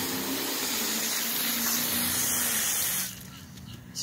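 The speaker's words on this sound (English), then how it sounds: "I'm going to go ahead and rinse my brushes." Detailing brushes are rinsed under running water, giving a loud, steady spraying hiss for about three seconds before it cuts off to a quieter background.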